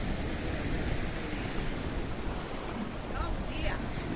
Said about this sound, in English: And the waves are coming in and in and in and in and in.